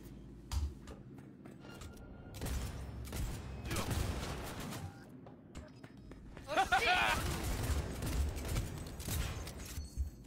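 Scattered gunfire in the Cyberpunk 2077 video game, sharp shots and short bursts at irregular intervals, mixed under a person talking throughout.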